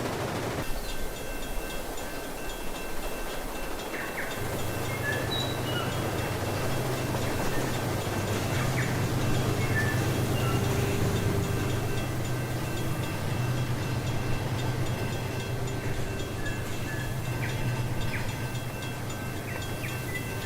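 A locomotive hauls a coal train bound for Laramie, a steady low rumble and drone running throughout with faint metallic clanks and squeals overhead, close and continuous without speech.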